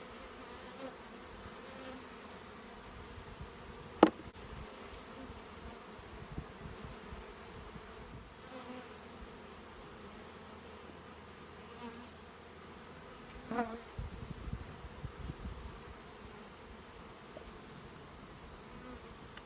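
Honey bees hum in an open backyard hive in September, a soft, continuous droning swarm with occasional brief knocks and rustles close by.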